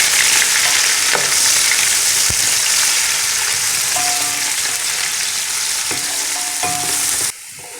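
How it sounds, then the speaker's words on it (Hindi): Onions sizzle and crackle in a cup of hot oil, a constant loud frying hiss with occasional clinks of a utensil stirring the pan. "यहाँ मैंने एक बर्तन में 1 कप ऑयल लिया है, इसमें हम प्याज डालेंगे"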